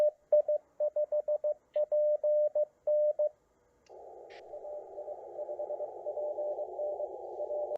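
A CW radio receives another station's Morse reply as crisp keyed beeps in quick groups, then a steady hiss of band noise rises with a fainter tone pulsing through it.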